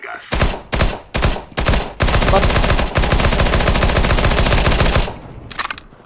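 Loud gunfire from a shooting video game: a few short bursts, then a sustained rapid volley of automatic fire close up, followed by a few scattered shots.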